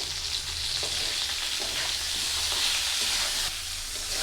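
A ground paste of mustard, poppy seed, cumin and green chilli fries in a pan with a continuous close sizzle and soft stirring scrapes, moderately loud and unbroken by talk.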